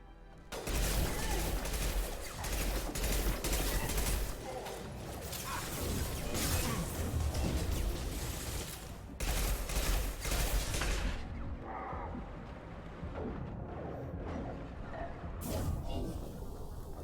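Sustained SMG fire in Mass Effect 2, dense, loud and continuous, with rapid bursts and clattering mechanical noise running through most of the stretch. Near the end the fire drops off, and a short final burst follows.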